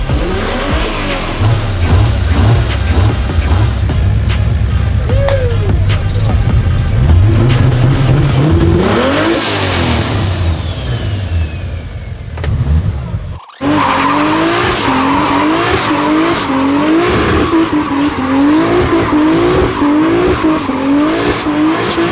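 A Toyota 2JZ-engined Lexus GS300 drifts in tandem, its engine revving hard over long, loud tire squeals that rise and fall, with a brief cut midway before more squealing and revving.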